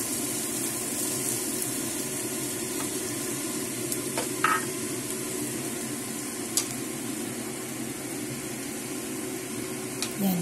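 Garlic and clams stirred in hot oil in a pan, giving a steady close sizzle with light scraping taps of the utensil, continuous and fairly even throughout with no talking.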